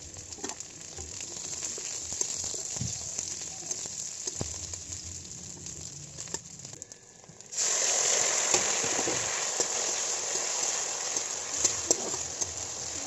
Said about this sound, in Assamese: সেইখিনি ভজাৰ পিছত তাত পিঁয়াজ আৰু মই পেষ্ট কৰি থৈছিলোঁ যিখিনি বিলাহী, সেই বিলাহীখিনি একেলগতে ভাজিম।